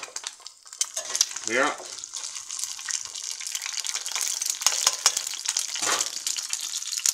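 Steady close sizzling and crackling of an egg frying in a pan, with a brief word spoken partway through.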